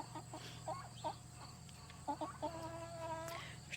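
Chickens cluck in short, soft bursts nearby, with a drawn-out squawk near the end over a faint background hum.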